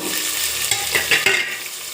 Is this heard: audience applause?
no